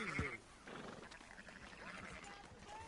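A sheep bleats in Red Dead Redemption 2, one short wavering call near the start, then a busy mix of game ambience and background sounds.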